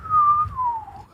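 A voice imitates a sleeping baby dragon's little nose whistle: one thin, close whistle lasting about a second that glides gently downward in pitch.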